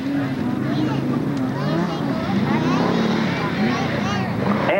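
Class 6 off-road race cars roar past at a 1992 SODA race in Bark River, Michigan, a loud continuous engine drone with shifting pitch, heard along with wind and crowd murmur and an announcer speaking.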